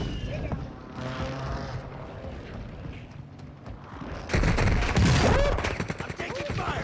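Gunfire during a Call of Duty fight on Ashika Island, bursts of rapid shots over constant battle noise, swelling louder in the second half, with players talking over it.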